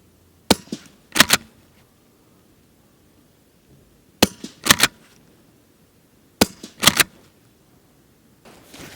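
A .22 rimfire straight-pull rifle fires RWS subsonic ammunition in three sharp, close cracks spaced seconds apart, each followed quickly by the clack of the bolt being cycled, with near silence between.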